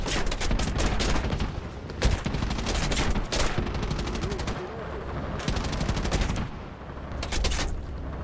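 Aircraft gunners in War Thunder fire machine guns in repeated rapid bursts, loud and close, separated by brief gaps, with engine drone continuing underneath.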